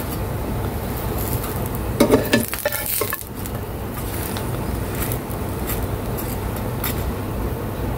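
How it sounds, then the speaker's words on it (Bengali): Bread slices frying in ghee in a pan for a school tiffin, with a steady soft sizzle and a brief burst of clattering and stirring near the start, no talking. "ঘি দিয়ে পাউরুটি ভাজতেছি টিফিন দেওয়ার জন্য"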